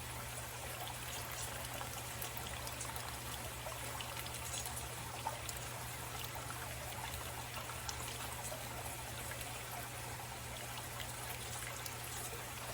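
Liquid poured steadily over seasoned pork in a slow cooker with pinto beans, a continuous close trickle and splash with no talking.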